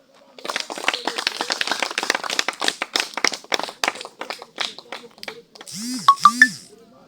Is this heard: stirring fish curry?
no